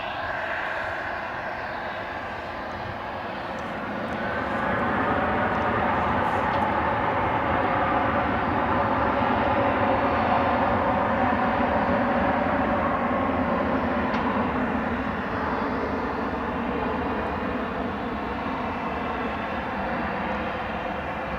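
Jet airliners at DFW International Airport, a steady loud engine roar swelling and holding as planes prepare for departure, heard from an outdoor plane-spotting position.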